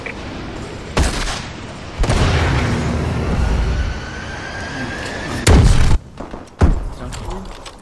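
Missile strike explosions in the Call of Duty Advanced Warfare video game arrive as several heavy booms and thuds across a noisy battlefield mix. Sharp blasts land near the start and end, with game voices talking between them.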